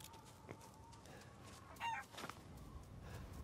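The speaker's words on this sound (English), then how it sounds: "Sorry, chicken. Rooster." A rooster crows once in the video game Resident Evil Village, a short bright call standing out over a steady ambient game background with scattered faint clucking-like sounds.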